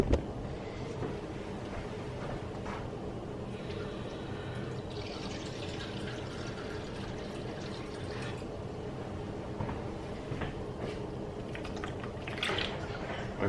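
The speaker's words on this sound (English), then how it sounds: "So I'm going to add 3/4 cup of water from our filtered water." Filtered water poured into juice in a kitchen trickles and fills steadily at close range for about thirteen seconds, a low continuous wash with faint clinks and no speech.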